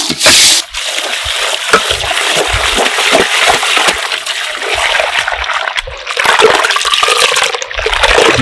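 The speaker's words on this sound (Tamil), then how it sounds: "இப்போ என்ன பண்ண போறோம்னு பார்த்தோம்னா கல் உப்பு போட்டு நல்லா அலசி எடுத்துக்க போறோம்" Snails are rinsed in water with rock salt, making loud continuous splashing and sloshing, with watery swishes and dribbles close by throughout and no talking.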